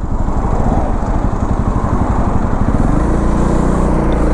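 Honda CRF300L scrambler motorcycle engine running close by, a loud, rapid pulsing thump that shifts into a smoother, steadier drone after a few seconds.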